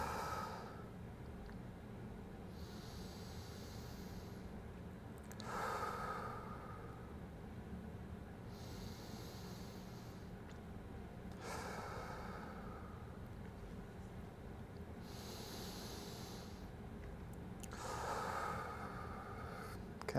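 Slow, deep breaths during a 90/90 hip stretch for external rotation, each long airy inhale and exhale rising and fading in a steady cycle about every six seconds, close to the mic over a low background hum.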